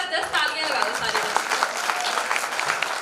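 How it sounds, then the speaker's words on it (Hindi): A crowd at a Punjab talent hunt grand finale gives the child contestants a dense, sustained round of applause, loud and continuous throughout. "पहला एक बारी सारे बच्चों वास्ते एक जबरदस्त तालियां लगा लो सारे"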